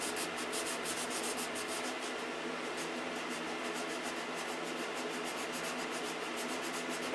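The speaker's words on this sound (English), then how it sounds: "I'll probably sand the whole airplane because it looks better sanded." Steady, close scratchy rubbing of sandpaper across the surface of a model airplane, continuous strokes with a faint mechanical hum underneath and no talking.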